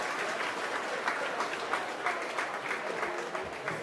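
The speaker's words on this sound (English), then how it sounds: "Even the Kanturk crowd are applauding that." The crowd at a Kanturk v Blarney Cork hurling match gives steady, dense applause from across the ground, sustained for the full few seconds with no one speaking over it.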